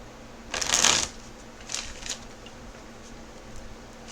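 Tarot cards shuffled by hand, one crisp riffling burst followed by a few softer, shorter flutters, close and quiet in an otherwise still room.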